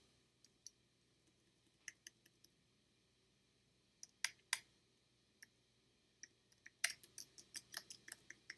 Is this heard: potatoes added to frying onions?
no